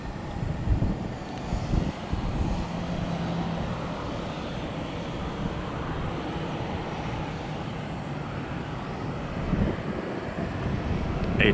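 A Southwest Airlines airliner at Tampa airport gives off a broad steady engine roar, loud and sustained, swelling slightly near the start and again at the end.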